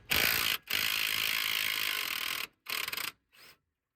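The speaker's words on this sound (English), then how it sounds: "I was able to undo the nut with the impact gun itself" An impact gun loosens the nut on a tie rod end of a BMW 530d F07 GT: a long, loud, buzzing rattle, then two shorter bursts trailing off, close up with no talking.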